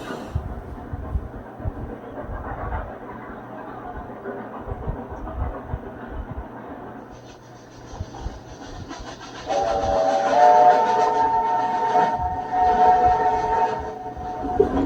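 Steam train working hard up a grade toward Cumbres Pass with two locomotives, a steady rumbling chug throughout, then a louder stretch near the end where a whistle sounds in short bursts over the running noise.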